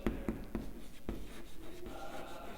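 Handwriting on a page while working through a physics collision problem, a faint, close scratching with a few quick strokes near the start and steady rubbing after, with no speech.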